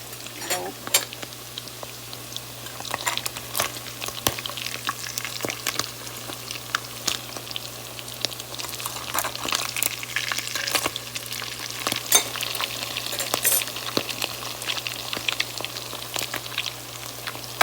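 Salmon patties fry in a pan with a steady, close sizzle, broken by frequent sharp crackles and pops and the scrape of stirring or turning, over a low constant hum.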